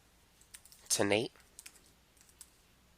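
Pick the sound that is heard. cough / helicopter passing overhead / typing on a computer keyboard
typing on a computer keyboard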